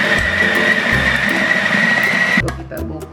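A kitchen grinder churns chicken meatball mixture seasoned with garlic powder, salt and pepper, giving a continuous close mechanical whir with a high whine that cuts off near the end.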